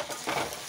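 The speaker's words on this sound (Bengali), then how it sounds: "এখন দিয়ে দেবো ভেজে রাখা আলু।" Fried potatoes tossed into cooked chicken in a hot pan, giving a short, steady sizzle and stirring scrape, close and alone.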